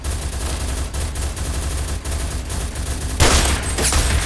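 Gunfire in the Roblox video game, a sustained barrage of rapid shots that grows louder and harsher toward the end.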